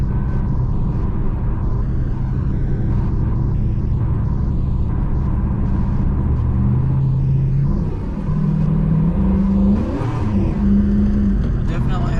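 A 1978 El Camino drives with a steady low engine rumble heard from inside the cabin, rising as it accelerates, with a brief pitch change around a gear shift. People talk over it throughout.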